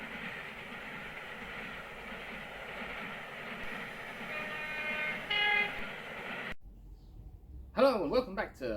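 A train at a station platform rumbles steadily at moderate distance, with a brief tonal horn-like blast partway through, then it cuts to quieter ambience and a voice speaking.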